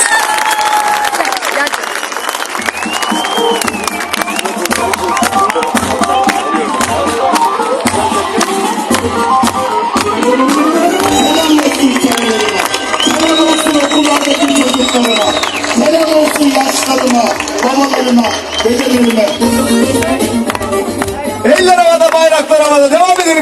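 Supporters at the opening rally of an election office clap loudly and cheer in a packed crowd, sustained applause running beneath an amplified voice speaking over it.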